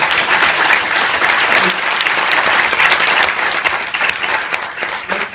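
Steady, dense applause from a large audience at an award ceremony, loud and sustained throughout with no pauses.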